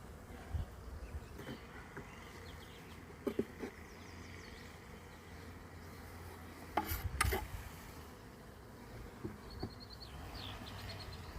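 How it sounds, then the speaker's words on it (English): Several bees buzzing inside a hive feeder, a low steady drone with a few louder passes close by and faint rustling, no voices. "We've got a couple of bees stuck in there."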